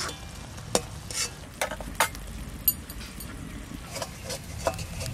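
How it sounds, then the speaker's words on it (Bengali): Lote fish being stirred in a pan as the water cooks off, a soft simmering sizzle punctuated by repeated sharp scrapes and knocks of a spatula against the pan. "এই নাড়াচাড়া করতে করতে মাছের জলটা শুকাই গেল"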